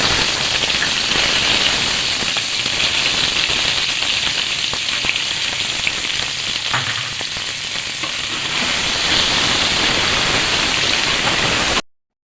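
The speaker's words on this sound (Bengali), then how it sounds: "এগুলোকে এখন তেলে দিচ্ছি।" Salted soybean chunks fry in hot oil with a loud, dense, steady crackling sizzle that stays constant throughout, close up, then cuts off abruptly at the end.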